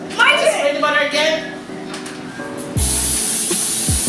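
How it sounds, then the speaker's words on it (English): Someone talks, then a steady, close hiss of aerosol butter cooking spray into a pan starts and continues to the end, loud and unbroken. "we have to spray the butter in the pan"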